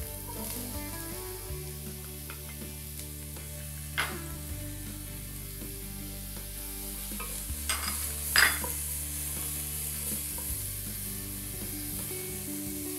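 Diced onion and minced garlic, about half an onion and three to five cloves, sizzle steadily in olive oil, a continuous close frying hiss with a few brief clicks of a utensil against the pan.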